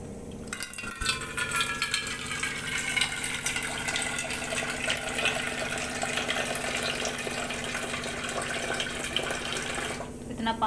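Water running steadily from a kitchen tap into a vessel, a continuous close hiss and splash lasting throughout, with a faint clunk near the start.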